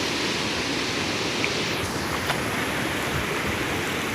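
Fast, powerful river water rushes at a waterfall in Kerala, a dense, steady roar of churning flow that fills the scene without pause and masks any other sound.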